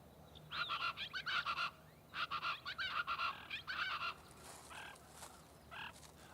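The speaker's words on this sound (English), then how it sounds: "the chachalaca, a noisy, gregarious bird common at the Santa Ana Wildlife Refuge" Raucous chachalaca calls at Santa Ana Wildlife Refuge, Texas: harsh, honking bursts repeated in quick series, fairly faint, over a quiet outdoor background.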